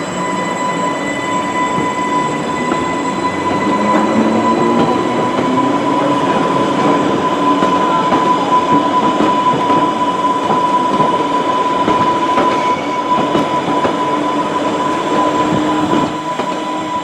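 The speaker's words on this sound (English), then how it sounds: "I was finding this 1938 tube stock train, or the Class 483" A 1938 tube stock Class 483 train runs along the reopened Island Line, its wheels rumbling and clattering with a steady hum and occasional squeals, heard from on board and continuous throughout.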